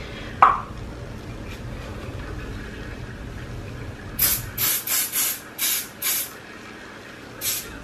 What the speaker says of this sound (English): We're gonna do a little bit of Sebastian spray.